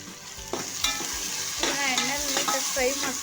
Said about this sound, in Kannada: ಎಣ್ಣೆಲಿ ನೀಟಾಗಿ ಫ್ರೈ ಮಾಡ್ಕೋಬೇಕು